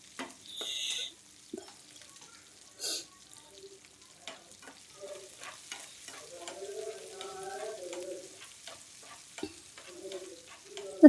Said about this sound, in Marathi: जरा असं परतून घ्यायचं. लगेच कांदा टाकायचा